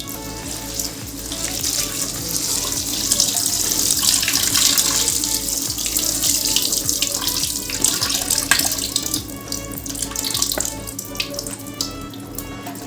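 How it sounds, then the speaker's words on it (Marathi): Fresh spinach leaves being washed under a running kitchen tap, a steady close splash of water into a sink with leaves being rinsed and handled, continuous for the whole stretch with no talking. "तर आपण आता भाजी धुवून घेऊ।"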